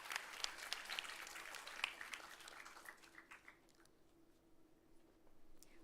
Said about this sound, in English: Again, a huge round of applause, people, please.